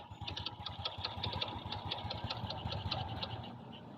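A Honda XRM 125 motorcycle with a carburetor hard-starting problem runs just after a kickstart, idling close by with a steady, slightly uneven rhythmic putter.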